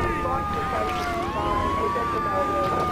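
Police car siren in Grand Theft Auto III, a wailing tone sweeping up and down continuously with game engine and traffic noise beneath, while someone talks over it.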